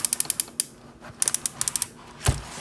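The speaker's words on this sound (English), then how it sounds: "like any good tank, the turret also ratchets around and rotates" An Ocular Max PS-17 toy tank turret ratchets as it rotates, giving rapid evenly spaced plastic clicks in two close bursts, ending with a louder knock.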